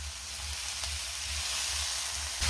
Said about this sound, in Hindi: अब सारी चीज़ों को 5 मिनट फ्राई कर लेंगे